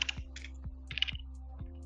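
Typing on a computer keyboard during a Python coding session: a handful of quiet, separate key clicks in an uneven rhythm, close and faint over a low steady hum.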